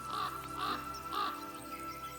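A crow caws three times in a steady rhythm, moderately close and distinct over a constant low background hum.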